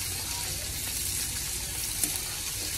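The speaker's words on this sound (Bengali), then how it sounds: "এই তরকারিটা ওই যে ফুটছে" A bitter gourd and potato fish curry with a thin gravy cooking in a pot, a steady close hiss and bubbling simmer throughout, with a single small click.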